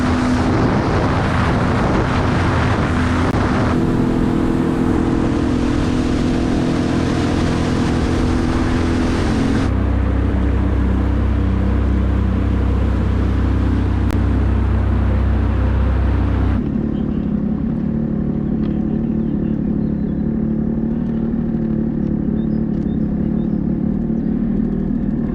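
A Sea-Doo Spark Trixx personal watercraft engine drones loudly and continuously out in the Dutch countryside, shifting in tone and strength between stretches as the throttle and distance change, with wind buffeting the microphone.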